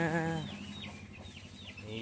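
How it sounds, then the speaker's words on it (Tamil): In a poultry coop, a hen clucks briefly up close, then small chicks peep in high, scattered chirps over a low hum, with another cluck at the end. "பத்து குஞ்சுங்க நல்லா ஆக்டிவாக இருக்குது"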